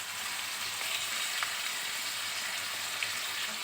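Chicken frying in ginger garlic paste makes an even, moderate sizzle nearby, a steady crackling hiss with occasional small pops.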